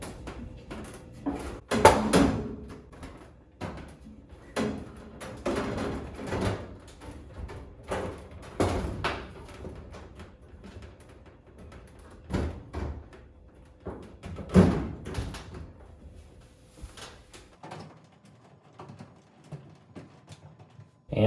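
A GE laundry center dryer front panel and door are handled and refitted, producing scattered knocks, clunks and sliding metal scrapes with irregular pauses between them, close and without speech.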